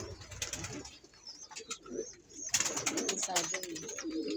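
Pigeons coo in a breeding loft, their low throaty calls overlapping in a busy stretch with chirps and a brief flutter of wings, denser in the second half.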